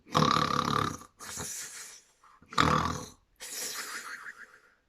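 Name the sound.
performer imitating a creature snoring noisily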